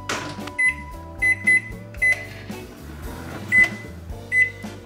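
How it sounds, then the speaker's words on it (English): A microwave hums steadily with a low electrical drone, punctuated by several short beeps at irregular intervals, close and clear with no talking. "cover it and microwave for 6 minutes on high"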